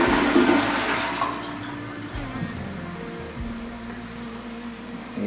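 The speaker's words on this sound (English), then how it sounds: "Let's see if it flushes." A newly installed toilet in a small DIY bathroom flushes with a loud rushing swirl of water that gradually eases into a steady refill hiss, close by.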